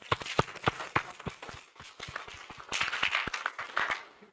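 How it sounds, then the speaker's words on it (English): Scattered clapping from a workshop audience at a geopark capacity-building event in Baringo, loose individual claps in an uneven rhythm that thicken toward the end, fairly quiet and slightly distant. "maybe a big applause as well for the National Commission."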